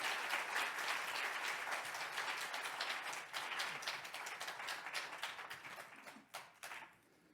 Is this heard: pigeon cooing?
no